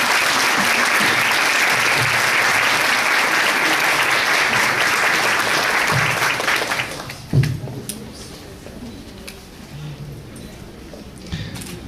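Loud, dense audience applause at a spiritist event honoring a speaker with a plaque, sustained for about six seconds before fading into scattered claps and quiet.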